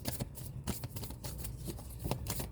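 Moonology oracle cards being shuffled up close, with a rapid series of papery riffling and slapping bursts that keep going without pause and with no voices.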